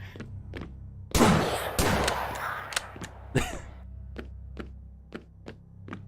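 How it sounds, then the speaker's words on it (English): Shotgun blasts and combat in the video game Lovecraft's Untold Stories, a loud burst of gunfire followed by another blast and a series of short sharp shots and clicks over a low game hum. "murdered both those hammer bros with a single shotgun blast"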